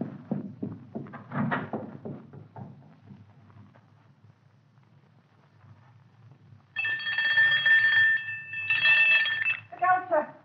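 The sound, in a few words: doorbell ringing loudly, radio drama sound effect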